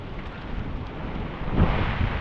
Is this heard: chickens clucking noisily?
no